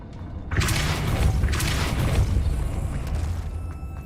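A Depulso spell cast in Hogwarts Legacy bursts in with a loud, booming blast that rumbles and crackles for a few seconds, then slowly fades.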